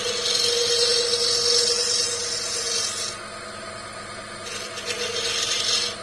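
Woodturning chisel making a full scraping cut on a spinning wooden puzzle ball on a lathe, a steady close hiss and rasp with a hum underneath, easing briefly midway before picking back up.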